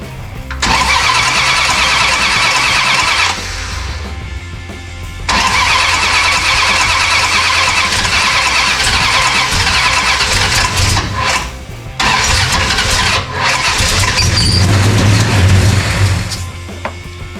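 A 1969 Dodge Charger engine cranks in long loud bursts with short pauses between them, trying to catch and briefly firing near the end, close and harsh.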